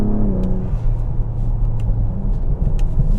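A 500 HP Ford Explorer ST engine drones loudly up close while shifting gears, a steady rumbling hum with slight pitch changes between shifts and faint ticks above it.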